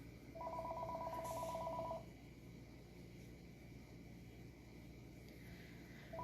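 A phone's electronic tone sounds as one steady, fairly loud beeping burst lasting under two seconds, then silence over a low background hum, with the tone starting again right at the end.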